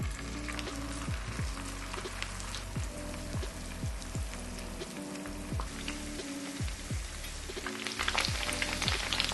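Tofu frying in vegetable oil in a small pan, a dense crackling sizzle with quick popping spatters all the way through, close and steady, getting a bit louder near the end.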